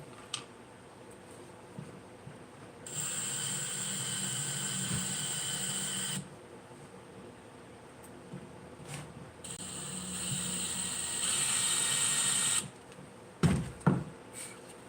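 Screws driven in by a powered driver during precision carpentry: two sustained, fairly quiet whirring runs of a few seconds each, followed by a couple of sharp knocks and taps near the end.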